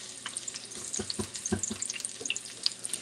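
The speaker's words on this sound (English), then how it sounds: "Listen to that sizzle." Onions sizzle steadily in hot oil for a green bean casserole, a crackling hiss with occasional soft knocks of stirring, close and moderately loud.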